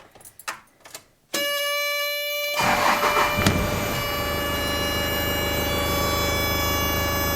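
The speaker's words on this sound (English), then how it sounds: "we'll see what happens when I go to start up the bus" A Toyota Coaster bus engine cranks and turns over, then settles into a steady, loud idle with a constant droning hum after a few quiet clicks.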